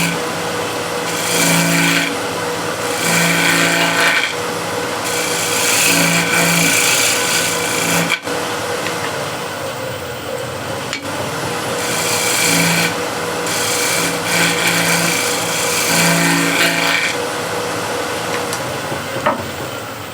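A gouge wing shear scraping a wooden hexagon plate spinning on a wood lathe at up to 1600 RPM, giving loud rasping scrapes in repeated passes with short pauses between, over the motor's steady hum.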